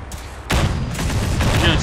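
A rifle fires in Fallout 4 as a loud burst of gunfire that cracks in suddenly after a quieter stretch, followed by further rapid, sharp shots and booms.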